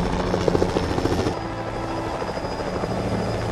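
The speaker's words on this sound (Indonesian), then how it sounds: "terlihat sebuah helikopter yang akan segera mendarat" A helicopter's rotor thumps steadily over a droning engine, fairly loud and continuous throughout.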